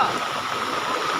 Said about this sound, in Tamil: தண்ணி எப்படி பாலம் உடையிற அளவுக்கு தண்ணி போயிட்டுருக்கு